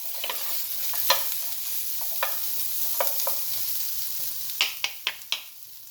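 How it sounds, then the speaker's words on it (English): Vegetables stir-fry for noodles in a steady, soft hiss of sizzling oil, broken by occasional spatula taps and scrapes that quicken into a run of sharp clicks near the end, no voices. "And now, the vegetable, just a couple minutes stir fried."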